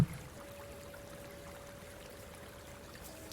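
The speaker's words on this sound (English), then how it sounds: "I like the water sound, so I'm gonna keep that" Steady, faint running water flows evenly and continuously, a soft broadband trickle with a faint hum beneath it, with no voices.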